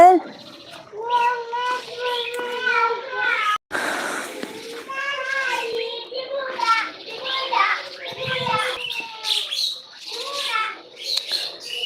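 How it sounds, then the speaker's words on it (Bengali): A cat meows repeatedly and close up in a rising, insistent series, with a person talking nearby and faint bird chirps in the background. "ম্যাও ম্যাও করে কেডারে"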